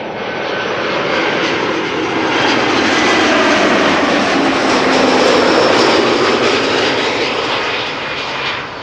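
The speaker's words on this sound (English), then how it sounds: "this was EasyJet arriving from Geneva" EasyJet plane arriving from Geneva at Schiphol Airport: a loud, continuous jet roar that swells and holds, then eases slightly near the end.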